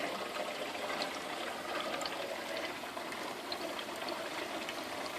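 Water rushes steadily from a brand-new coiled hose being flushed clear while plumbing a BRS reactor, a continuous broadband hiss and trickle that holds an even level throughout with no talk.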